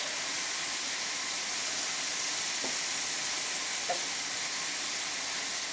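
Shrimp frying in a pan with onion, chilies and garlic, giving a steady, even sizzle throughout with a couple of faint ticks, close and without talk.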